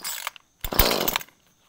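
An Echo CS2511T small chainsaw fires in two short bursts, a brief snarl and then a louder roar of about half a second, with a pause between and quiet after.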